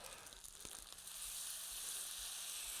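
Fried rice sizzles steadily in a hot pan with soy sauce for a Thai coconut shrimp dish, a dense continuous hiss that grows fuller after a brief stir at the start, with no voices.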